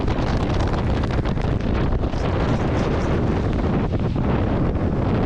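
Strong wind from the outer bands of Hurricane Ian coming ashore at Sarasota, Florida, a loud, constant roaring gust buffeting the microphone without a break.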